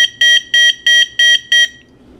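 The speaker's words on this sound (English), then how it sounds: "Your alarm should fire up." Weather radio alarm triggered by touching an alligator clip across its contacts: five loud, evenly spaced high electronic beeps in quick succession, then silence.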